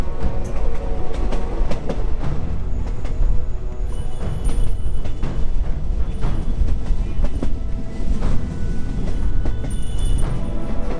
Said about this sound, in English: As the train snaked its way through valleys and up into the more mountainous regions.